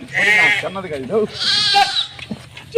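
Pregnant sheep in a Telangana village in Suryapet district bleat in a few loud, wavering calls close by, mixed with a voice.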